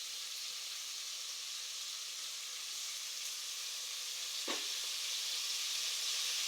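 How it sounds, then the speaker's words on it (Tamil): Chicken 65 pieces sizzle steadily in a hot frying pan for a Tamil chicken gravy, a constant close hiss with one brief scrape of stirring near the end. "சிக்கனை போட்டுட்டு நல்லா மிக்ஸ் பண்ணி விடுங்க."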